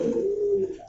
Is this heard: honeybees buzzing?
no